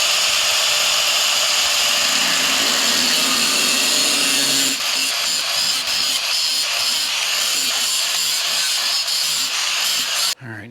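A power tool cuts into the corners of a metal hood being fitted to a Chevy COE truck, a loud continuous whine that changes to a harsher, pulsing grind partway through and cuts off abruptly at the end.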